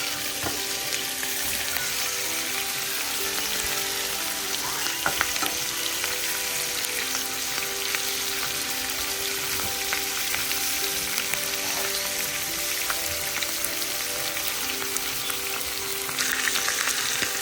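Beef chuck ribs sizzle on a stovetop grill in a dense, continuous hiss with scattered crackles and pops, close and steady throughout, no talking.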